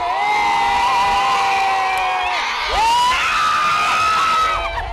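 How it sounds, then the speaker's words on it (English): A large crowd in downtown Kingston, Jamaica cheers, whoops and screams for visiting royals. The roar is loud and sustained, with high shouts rising above it and a brief dip partway through. "The crowds were waiting."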